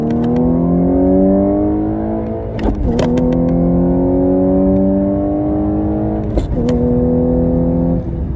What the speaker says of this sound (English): I'm gonna put my foot down right now, and you can roll through the gears and it just flies.